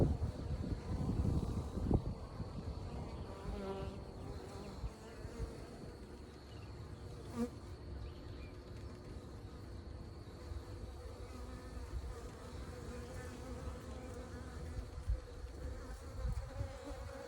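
Honey bees buzz around an open beehive being set up, a dense, continuous close drone with occasional wind noise on the microphone.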